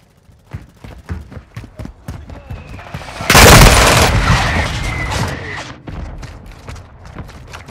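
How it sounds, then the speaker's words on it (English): A mortar strike in Modern Warfare 2, scattered gunfire cracks leading into a loud roaring blast that rumbles and decays for a couple of seconds before sporadic shots resume. "Our mortar strike is inbound."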